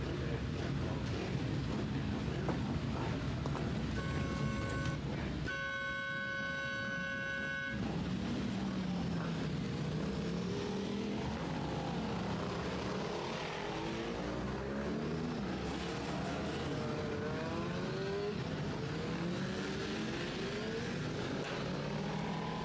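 Ulster Superbike racing motorcycles at Kirkistown head out on track. Engines rise and fall in pitch as they pass at a distance, and a brief steady horn-like tone sounds early on.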